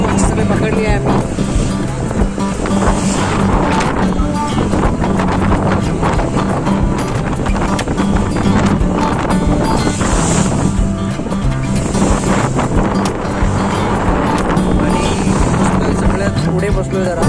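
A fishing boat out on the sea off Mumbai gives a constant, loud wash of engine drone, wind and water noise that stays unbroken throughout.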